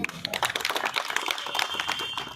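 A crowd at a local celebration for a Sadar Bazar legislator's fourth election win claps for itself, a dense, steady patter of many hands close by, with no talk over it.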